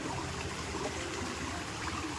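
Steady rushing of water flowing in a low-running stream beside farm fields, a continuous broadband wash with no voices, close by and even throughout.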